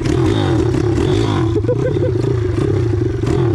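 A loud, raw engine running without its muffler cartridge revs and sputters up close with a harsh, rattling roar, holding steady throughout.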